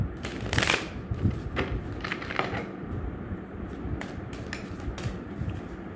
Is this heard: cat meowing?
no